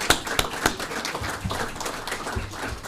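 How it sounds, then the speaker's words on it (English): Scattered hand claps from an audience at the Ed Doherty Award ceremony for high school football, a few sharp separate claps over a room murmur rather than full sustained applause. "could we get one round of applause for the Ed Doherty committee that votes on all these?"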